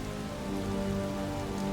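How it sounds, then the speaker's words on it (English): Steady rain falls in the video game Lucius III, a dense, even hiss of drops hitting surfaces that stays constant throughout, with low ambient hum beneath and no voices. "Starting to rain."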